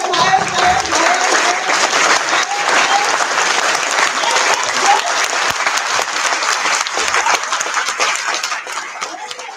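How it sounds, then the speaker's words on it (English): A conference audience at an HR conclave claps together, starting as slower claps and building into faster, denser applause that stays loud and sustained before easing slightly at the end. "So we'll do slow claps, and then we'll go higher, higher, higher, higher, and higher."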